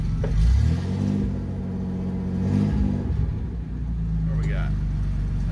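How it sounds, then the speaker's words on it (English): A car, known as Silver Ranger, revs loudly on a DynoJet dyno during a third gear pull, its engine a steady, powerful rumble that swells and holds for several seconds at close range. "Let's try a third gear pull."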